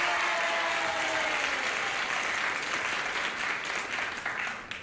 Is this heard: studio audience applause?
yes